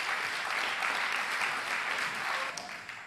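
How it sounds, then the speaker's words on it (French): Sustained applause from a church congregation at a gathering on polygamous marriage, a dense steady wash of many hands clapping that fades slightly toward the end. "applaudissons quand même pour cette parole"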